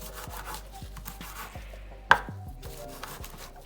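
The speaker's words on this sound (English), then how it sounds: "Chop it up a little bit." Food is chopped on a board while homemade marinara sauce for spaghetti and meatballs is made: a steady run of quick, light knife strokes, close and alone, with one sharper knock partway through.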